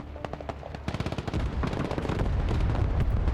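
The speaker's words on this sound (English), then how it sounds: "Okay, the enemy has artillery." Enemy artillery fire in the video game Broken Arrow: a rapid, dense barrage of overlapping blasts and gunfire that builds from sharp separate cracks into a continuous loud rumble, with no talking.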